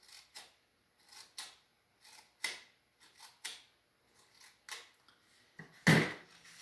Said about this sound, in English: just snip with your scissors